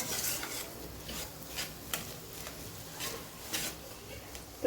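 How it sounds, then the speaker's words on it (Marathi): A spoon works mashed potato into a Frankie filling in a bowl, giving soft, steady scraping and rubbing strokes with light clinks, faint and close, without talk. "आपण कुस्करलेला बटाटा हा मिक्स करून घेतोय"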